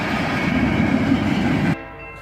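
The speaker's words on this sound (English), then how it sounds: "An EMD SD40-2 leads, followed by an AC44CW." Freight train led by an EMD SD40-2 diesel locomotive with an AC44CW behind, a loud steady rumbling roar of engines and rolling cars that drops off abruptly near the end, with no voices.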